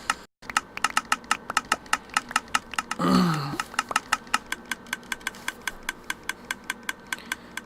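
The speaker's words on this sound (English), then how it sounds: "I'm going to turn it off because I hate the clicking noise" A redstone-style farm machine in Minecraft Bedrock Edition makes a steady run of sharp, evenly spaced clicks, with a brief whooshing rumble partway through.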